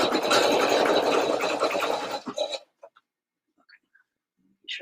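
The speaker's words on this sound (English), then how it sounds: "I always just kind of stitch a little bit and let it get set, and then I straighten some more, and then I let it stitch" An embroidery machine stitching steadily and loudly for about two seconds, then stopping abruptly, leaving near silence with a few faint handling clicks.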